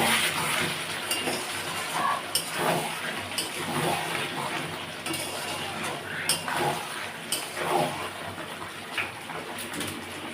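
Meat being sautéed and stirred in a pot, with a low continuous sizzle broken by irregular scrapes and clinks of a spoon against the pot, fairly close; birds chirp faintly in the background.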